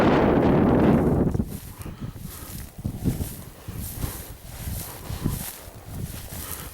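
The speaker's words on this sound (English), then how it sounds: "The wind's a bit strong for you probably hearing me." Strong, cold wind buffets the microphone near a mountain summit, a heavy roaring gust at the start easing into uneven, lower rumbling and flutter.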